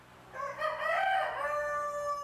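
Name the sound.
white Langshan chickens crowing and clucking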